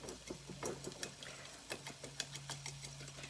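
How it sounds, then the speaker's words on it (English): Eggs beaten with a stainless steel mini whisk in a ceramic egg cooker produce quiet, rapid, irregular ticking and clicking close by. "So the more you beat your eggs,"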